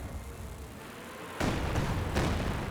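Katyusha rocket artillery barrage in the Company of Heroes 2 war game, opening with a quiet stretch before a sudden loud burst of launches and blasts, followed by a couple of further heavy impacts in quick succession.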